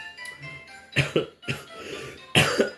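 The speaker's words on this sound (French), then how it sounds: "je suis désolé, j'ai une toux assez sèche" Several harsh, abrupt dry coughs burst out in quick succession, close and fairly loud, with short pauses between them.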